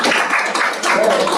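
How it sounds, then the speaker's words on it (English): A short burst of dense audience applause for solar panelists at a community solar meeting, steady and fairly loud throughout. "Big round of applause for them, please."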